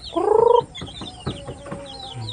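Red junglefowl in a new coop give a loud, harmonic squawk-cluck up close, followed by several softer, scattered clucks and chirps.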